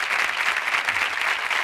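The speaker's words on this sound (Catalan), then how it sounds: "aquest aplaudiment de simpatia" Steady applause from a theatre audience at a magic and ballet show, a dense wash of clapping sustained through the whole short stretch, moderately loud with no talk over it.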